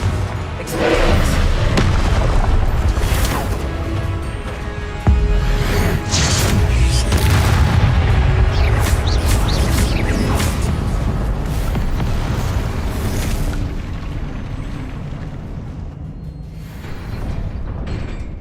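Heavy booming blasts of the Confringo explosion spell in Hogwarts Legacy, loud rumbling impacts with rolling low-end debris and crackle that swell and linger, fading slightly toward the end.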